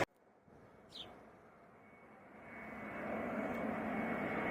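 Jet airliner from Ibiza passing at Alicante airport at sundown, a faint engine roar that swells gradually as it nears, heard alone without talk.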